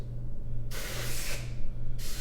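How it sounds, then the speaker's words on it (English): Compressed air blown under the edges of a large clay platter resting on plaster, two sharp bursts of close, loud hissing, the first longer and the second starting just before the end, over a steady low hum. "I'll use compressed air under the edges"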